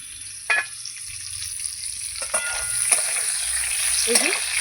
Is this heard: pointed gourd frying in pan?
yes